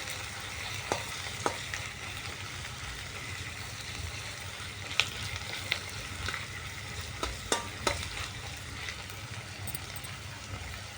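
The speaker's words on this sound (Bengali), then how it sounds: "পেঁয়াজটাকে আমি ভালো করে নেড়ে চেড়ে নিচ্ছি পেঁয়াজটাকে হালকা বাদামি করে ভেজে নিতে হবে" Chopped onion fries over medium heat in a pan for a chicken liver and neck masala. A low, steady sizzle carries throughout, broken by occasional sharp clicks and scrapes as the onion is stirred.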